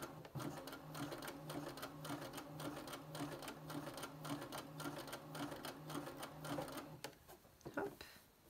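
Domestic sewing machine stitching jersey and fleece fabric for a flat soft toy, running with a steady rapid needle rhythm before slowing and stopping.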